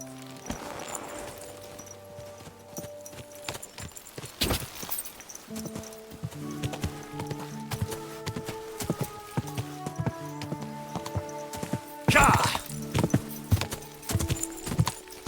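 Horse hooves clip-clopping in Kingdom Come: Deliverance II, a steady rhythmic gait over a tonal musical score, with a louder burst near the end.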